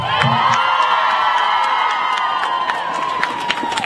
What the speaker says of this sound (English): And we can give a round of applause to Governor Walz for doing something.